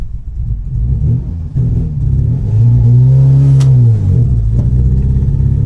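Ford XR3i convertible engine running steadily, then revving up to a sustained higher pitch around the middle before settling back down, loud and close with no talk.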